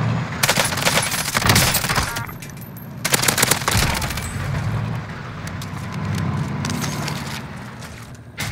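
Gunfire in Call of Duty Warzone: loud automatic bursts of rapid shots in two main volleys, with scattered single cracks and a rumbling, scraping game background between them, close and continuous.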